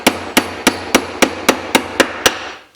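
A Japanese hammer drives a hardwood dowel through a steel sizing plate, nine sharp, evenly spaced strikes ringing out close and loud with no talk.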